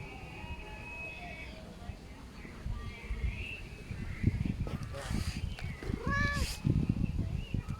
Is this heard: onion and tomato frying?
no